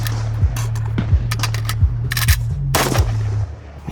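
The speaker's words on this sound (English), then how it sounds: "magazine out first, AK reload" Metallic clacks and clicks from an AK rifle being reloaded, magazine pulled out first, come as a rapid series of sharp close transients over a steady low hum, with a brighter rattling burst near the end.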